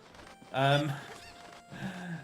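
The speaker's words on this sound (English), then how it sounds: "So of course that is our 3rd chicken." Harmonic honking squawks from a cucco chicken in the Zelda: Ocarina of Time game, one loud burst followed by a fainter second call, close and clear with no talk over it.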